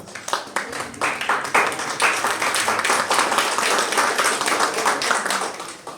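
An audience at a Modicare motivational event claps loudly and energetically, individual hand strikes audible within a thick, sustained round of clapping, with a voice faintly present underneath.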